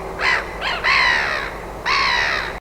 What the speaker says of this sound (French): Et ça, c'est la mouette.